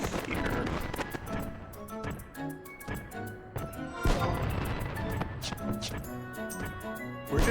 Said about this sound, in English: Where did Rabao get all these fireworks from?